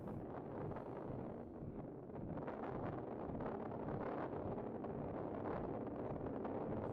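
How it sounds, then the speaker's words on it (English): Rocket engines burn in the video game Stationeers with a continuous, dense roar of rumbling noise that holds steady and full throughout, without talk. "I hear rocket engines burning"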